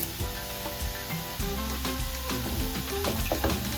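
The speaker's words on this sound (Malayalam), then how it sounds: "ഇതിനകത്ത് നമ്മൾ നേരത്തെ എടുത്ത് വെച്ചിരുന്ന കരിവേപ്പിലയും കൂടി ഇട്ട് കൊടുക്കണം" Curry leaves dropped into hot oil for a Kerala-style egg roast, giving a steady, close sizzle and crackle that swells louder partway through, with light stirring scrapes.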